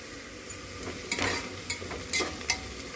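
Onions frying in a pan for prawn biryani, turned pink, give a soft continuous sizzle broken by several short scraping stirs, close and fairly quiet.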